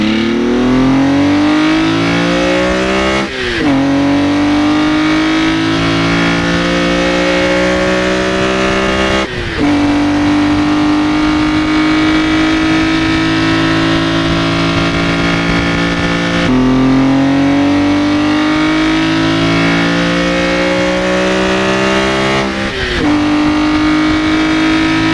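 A BMW E46 M3 engine revs hard and repeatedly through the gears, a loud raspy howl climbing in pitch, dropping briefly at each shift, then climbing again.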